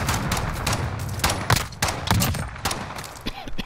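Rapid video game gunfire, bursts of loud, close shots and automatic fire crackling in quick succession with a few heavier thumps and no pauses.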